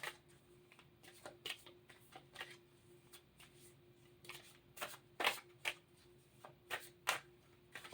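Atlantis Oracle cards are shuffled by hand in irregular papery riffles and taps, close and fairly quiet over a faint steady hum, with no one talking.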